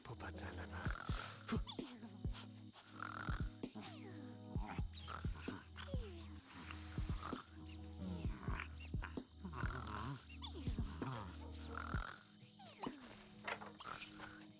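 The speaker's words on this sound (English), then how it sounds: "I love that puppy so much." Dog barking and growling in The Sims 2 medieval game, several short yaps and growls in bursts at moderate distance, with a person talking over them now and then.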